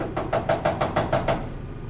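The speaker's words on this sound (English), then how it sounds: "Somebody now is knocking on your door." Seven quick, evenly spaced knocks on a door, close and loud, with nothing else around them.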